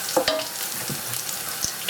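Onions fry with cumin and a cinnamon stick in a hot pan, giving a close, steady sizzle with a few crackles and brief scraping stirs. No talking.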